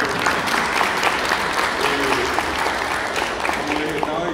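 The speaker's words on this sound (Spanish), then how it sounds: "Perdón, profesor Roberto, un aplauso para Roberto." An audience applauds Professor Roberto at a gathering in Corrientes, Argentina, steady clapping filling the room with voices murmuring underneath.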